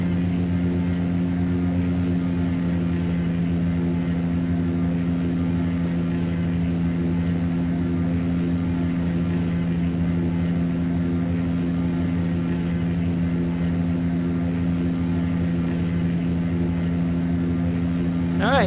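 Small propeller aircraft in a flight simulator on a short final approach, its engine giving a steady, loud, continuous drone with strong low harmonics throughout, with no talk over it.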